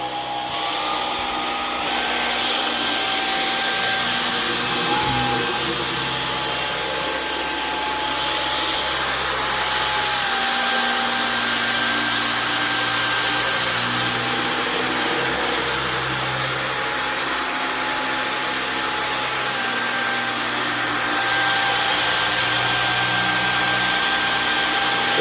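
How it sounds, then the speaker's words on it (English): A Dyson V15 Detect cordless vacuum cleaner runs continuously at close range, a loud steady motor whine with a high airflow hiss and slight pitch shifts as it moves over the floor. "we have our V15 Detect right here. Let's turn it on and get cleaning."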